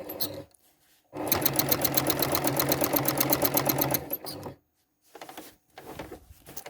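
Domestic sewing machine quilting continuous curves through fabric layers, a fast, steady burst of rapid stitching for about three seconds, then short stop-start runs after pauses, close and loud with no talking.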